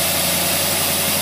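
A car engine fitted with a Carter AVS carburetor runs at a steady, loud, low idle with a constant drone and no voices.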